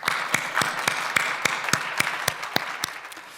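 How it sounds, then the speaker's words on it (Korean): Congregation at a dawn prayer meeting clapping together in a steady, even rhythm, sharp claps about every quarter second, fairly close and loud, no talking. "우리 다 같이 하나님께 큰 박수로 영광 돌리도록 하겠습니다."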